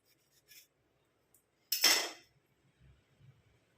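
A knife slices a tomato in half in a kitchen, giving one short crisp cut with a brief rasping drag, close and clear against near silence with a few faint soft knocks.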